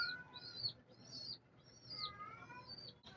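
Several pigeons chirp and call in short bursts over a low murmur, fairly close, with no talking.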